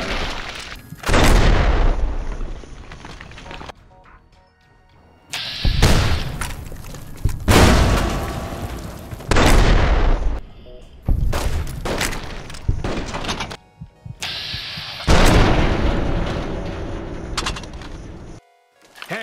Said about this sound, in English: Even when I manage to shoot the two guys beside me, I get shot in turn by a sniper on the balcony of the Bison Steve.